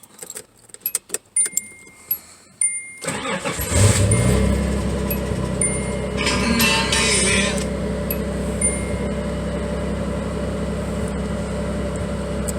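A V6 car engine cranks and catches after a few sharp metallic jangles of keys, then settles into a steady, close idle that runs on at an even, fairly loud level.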